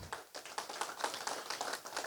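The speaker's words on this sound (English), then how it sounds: "I want to give them a round of applause, if y'all don't mind, real quick" A town hall audience in Chauvin, Terrebonne Parish, gives the directors a short round of applause, a thin, fairly quiet patter of hand claps.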